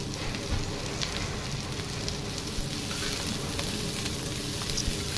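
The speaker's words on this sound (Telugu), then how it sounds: "ఆయిల్ లైట్గా వేడెక్కిన తర్వాత ఉల్లిపాయ ముక్కలు పచ్చిమిరకాయ ముక్కలు వేసి బాగా వేసుకోవాలి" Onion and green chilli pieces frying in hot oil for aloo samosa filling, a steady dense sizzle with crackling pops, close and continuous without speech.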